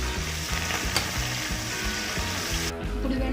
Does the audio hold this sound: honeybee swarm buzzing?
no